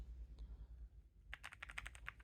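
Keys clatter on a Kisnt 34-key mechanical number pad used with a laptop, a quick run of crisp clicks near the end after a quieter stretch.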